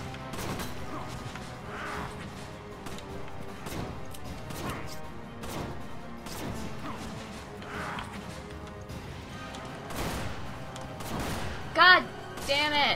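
Repeated shotgun blasts in Resident Evil 5 gameplay, sharp bursts spaced a second or two apart amid a busy game mix, with a player's agitated voice talking and swearing over them.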